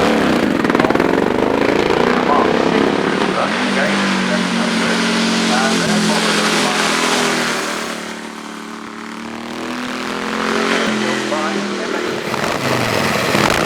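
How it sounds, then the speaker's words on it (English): A Cooper Mark VI racing car with an engine built from Norton and JAP motorcycle parts, climbing at the Shelsley Walsh hillclimb: a loud, rising single-cylinder engine note that dips midway and then swells again, with a voice talking over it. "John Bennett's Cooper Mark VI runs an engine based on components from the 2 great rival motorcycle manufacturers, Norton and Jack."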